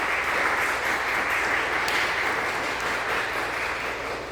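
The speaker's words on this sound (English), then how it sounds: "Give another warm round of applause." A dense, steady wash of audience applause at a June 2024 recital fills the whole stretch, loud and sustained with no talking over it.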